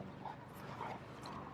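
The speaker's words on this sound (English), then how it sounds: "dogs just went on high alert" Several dogs bark on alert indoors, faint and somewhat distant, giving a few short yips and whimpering barks over a low background hum.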